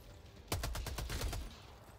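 Rapid burst of gunfire from Helldivers 2, about ten close, evenly spaced shots in a loud stuttering run lasting roughly a second, then fading to quiet background.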